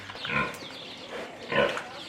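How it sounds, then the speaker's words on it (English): A Tamworth pig, the rare ginger-to-red Sandyback breed, gives two short, close grunts about a second apart in an otherwise quiet setting. "One of Tamworth's claims to fame is the now rare Tamworth or Sandyback pig."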